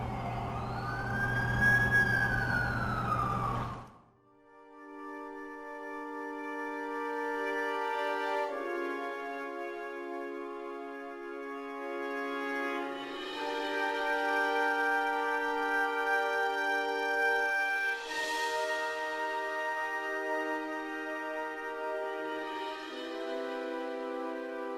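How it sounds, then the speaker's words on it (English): An ambulance siren in a video game wails continuously with a tonal, slowly shifting pitch, preceded by a brief rising electronic whoop at the start. "That's the ambulance I called."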